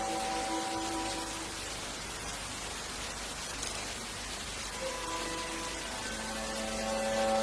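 Steady rain hisses as a broad, even wash of falling water, with quiet musical tones drifting in and out over the top.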